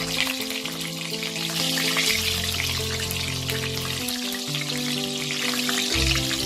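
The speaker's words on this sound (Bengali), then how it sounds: "তো এই তেলটা গরম হলে আমি এই ছোট ছোট 5টা পেঁয়াজ প্রথমে ভেজে নেব।" Five small onions fry in hot oil with a loud, continuous hiss and crackle close up, while a steady humming tone runs beneath.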